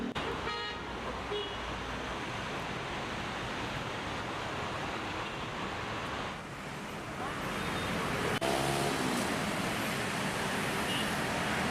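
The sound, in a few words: traffic jam with car horns honking on a closed Jakarta road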